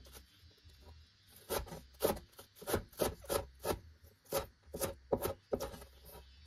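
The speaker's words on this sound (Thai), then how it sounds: "เราจะหั่นซอยเขาให้แบบว่าไม่เล็กไปแล้วก็ไม่ใหญ่ไปนะคะ" Soft, steady knife chopping herbs on a cutting board, a rapid run of rhythmic cuts with faint background hum.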